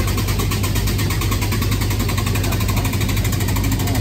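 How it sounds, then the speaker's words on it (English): Australian pro stock motorcycle at a drag racing event, its engine idling loudly and close in a steady, unbroken rumble with fine, rapid pulsing throughout and no voices. "This beautiful machine belongs to Glenn Wooster, a talented rider."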